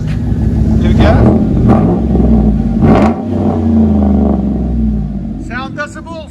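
A 2012 Chevy Avalanche 5.3L V8 with straight-pipe exhaust revs loudly up close in repeated surges, with people talking over the rumble.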